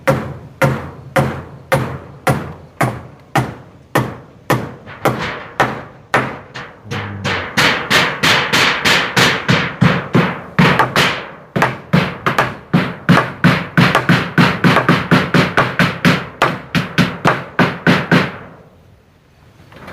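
Hammer blows driving nails into wooden floor boards of a small hut, a long run of sharp loud strikes in a steady rhythm that quickens in the middle, ending abruptly.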